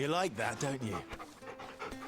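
A dog in the video game Final Fantasy XVI pants in quick rhythmic breaths, close and fairly loud, under a voice speaking over it.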